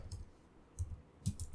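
A few faint, scattered keystrokes clack on a computer keyboard, close by but quiet, with brief pauses between the clicks.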